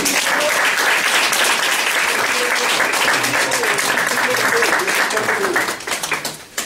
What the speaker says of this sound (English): please join me in a round of applause for our speaker